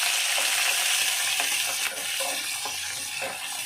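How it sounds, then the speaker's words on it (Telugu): Onions and ginger fry in a pan for upma, a loud, steady sizzle with a few stirring scrapes and no talking. "తర్వాత ఆనియన్స్ వేస్తున్నామండి. జింజర్ కూడా దాంట్లో యాడ్ చేస్తున్నామండి."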